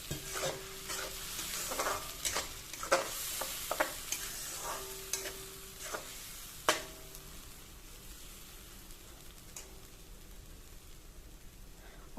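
Vegetable curry stirred in a pan over low gas, with repeated scraping and clacking spoon strokes over a soft background sizzle, loud and close at first and growing sparser toward the end.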